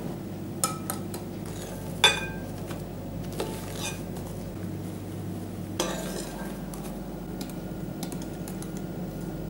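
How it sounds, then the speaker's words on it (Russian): A utensil stirs whipped egg whites into strawberry puree and whipped cream for a strawberry semifreddo, giving soft, steady scraping with a few sharp clinks against the bowl, close and moderately quiet, with no talking. "Порциями добавлю взбитые белки, хорошо размешивая."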